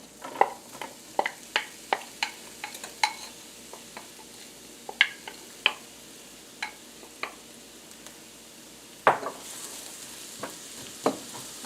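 Onions tossed into hot olive oil in a frying pan sizzle steadily, with a series of sharp clacking stirs and scrapes of a utensil against the pan, close and fairly clear.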